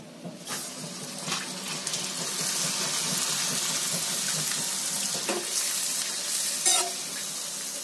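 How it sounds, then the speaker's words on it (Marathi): Sun-dried drumstick papadi and papad fry in hot oil with a steady, bright sizzle that holds throughout, broken by a few louder crackles. "हे बघा आता मी तुम्हाला हे शेवग्याची शेंगाची पापडी आणि पापड हे तळून दाखवते."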